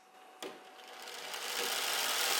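A Lego gravity-powered generator spins up fast with a whirring, buzzing mechanical whine. It rises in pitch and loudness after a brief knock at the start, fairly close.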